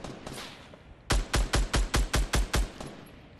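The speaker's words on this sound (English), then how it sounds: "Just keep shooting them. They'll eventually come out." Automatic gunfire in the video game Fortnite: a rapid string of about nine loud, evenly spaced shots follows a brief quieter stretch.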